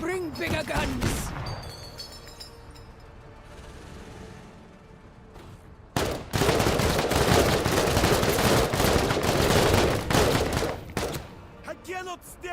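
Bursts of automatic gunfire from a Counter-Strike style video game. Dense, loud volleys come in two spells, with a brief lull between them, and the firing carries on nearly without pause through the second half.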